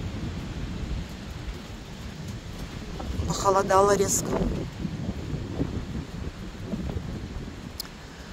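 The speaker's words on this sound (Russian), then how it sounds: "буря реально разыгралась" A storm with wind and rain sweeps through tall, swaying trees outdoors, making a continuous rough rushing roar close to the microphone. Someone speaks briefly in the middle.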